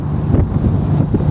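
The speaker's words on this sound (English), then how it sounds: "the loudest thing I can hear as I sit here is the sound of the water rushing past" Water rushes past the hull of a Bavaria Virtess 420 motorboat running on quiet outdrives, a loud, steady low rumble and wash close by, mixed with wind buffeting on the microphone.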